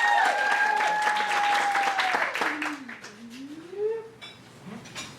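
Applause from an audience at a long-form improv comedy show rises and then tapers off, while a sliding tone and voices carry over it as the clapping fades.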